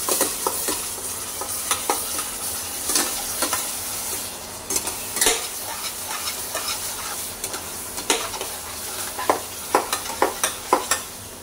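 Masala spices and cumin roast in hot oil for Maharashtrian chole, a continuous close sizzle with frequent spoon scrapes and clinks against the pan, getting busier near the end, with no voice.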